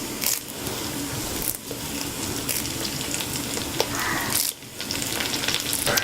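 Curry leaves crackle in hot oil with onions for a Kerala beef dry roast, making a loud, busy sizzle broken by a few brief dips and sharp popping bursts, with no voices.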